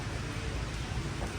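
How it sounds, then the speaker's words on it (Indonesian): Steady rain falls during a stop on a long solo motorcycle tour through Java, a faint, even hiss of drops with no voices over it. "ternyata masih hujan nih"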